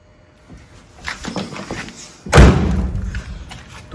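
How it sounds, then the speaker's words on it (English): The door of a 1940 Buick, its sill and pillar freshly welded, swings shut with a single solid thud, preceded by softer handling noises. "Door still shuts good."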